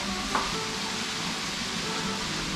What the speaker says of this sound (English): we're going to go ahead and add our garlic